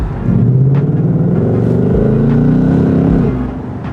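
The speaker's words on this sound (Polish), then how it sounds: "dźwięk silnika, dźwięk wydechu, który w kabriolecie jest zdecydowanie słyszalny" A Ford Mustang GT convertible's 5.0 V8 engine and exhaust rumble steadily and loudly, a deep sustained drone with a rising rev, heard up close with no talking.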